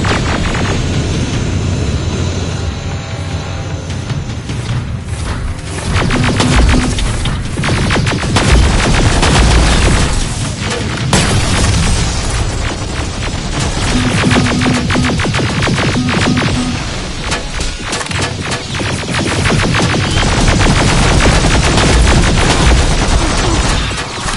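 Sustained, loud video game gunfire in Terminator: Resistance, dense overlapping bursts and machine-gun fire forming a chaotic battle wall that runs almost without pause.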